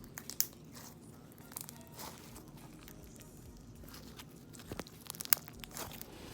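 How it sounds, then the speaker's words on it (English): Soft crackling and crunching as crunchy slime is squeezed and worked by hand, quiet and close, with a few sharper pops. "the slime is done. Look at it. It's kind of crunchy, huh?"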